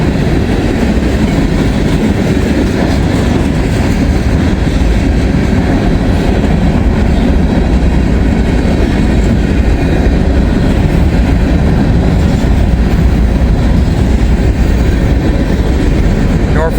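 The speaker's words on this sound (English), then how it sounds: "Norfolk Southern train 143" A Norfolk Southern freight train with rock-hauling cars rolls past close by, a loud steady rumble and roar of wheels on rail with repeating clickety-clack, continuous throughout.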